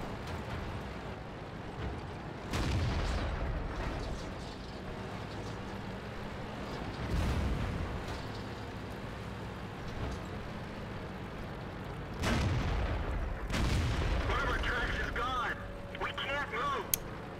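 Heavy tank cannon shots from a Tiger P in World of Tanks boom out in several loud, widely spaced blasts, with occasional closely paired rounds, over a constant rumble of in-game engine and battle noise.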